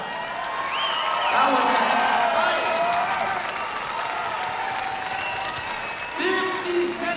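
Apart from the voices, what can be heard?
crowd applause after a fight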